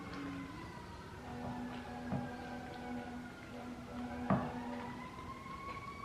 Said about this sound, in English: the fire trucks are going by up front.